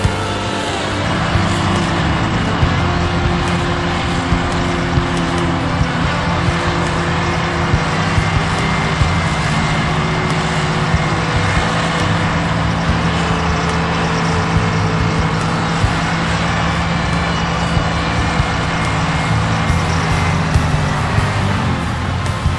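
A 1951 Euclid dump truck with a GM 6-71 two-stroke diesel, carrying an 18-tonne load at a vintage earthmoving display, drones loudly and steadily as it rolls past, its engine note holding strong throughout.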